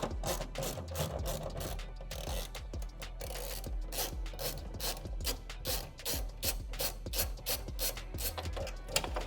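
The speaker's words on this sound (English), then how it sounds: "Next, grab your 10mm ratchet." A 10mm ratchet works a bolt loose on a Rivian R1T or R1S, a fast, steady run of rhythmic pawl clicks close up that continues without pause, with no voices.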